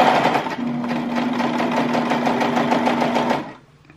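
A sewing machine with a cutting knife stitches a t-shirt neckband, running as a fast, steady close-up whir with a rapid mechanical chatter for about three and a half seconds before stopping.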